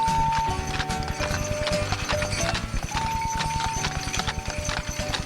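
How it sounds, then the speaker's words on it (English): Horse hooves clip-clop steadily, close and loud, as a horse pulls an old-fashioned sleigh on a winter ride, with a brief whinny-like tone and jingling texture over the rhythmic steps. "an old-fashioned horse-drawn sleigh ride"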